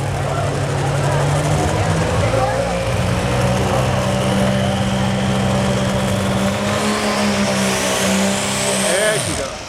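Super stock tractor at a county fair tractor pull revs hard and holds a loud, sustained engine roar for nearly ten seconds, pitch climbing steadily before dropping off at the end, with a crowd and announcer audible underneath.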